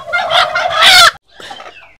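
A broody hen gives a loud, close, drawn-out burst of throaty clucking, then a short pause and a softer second call.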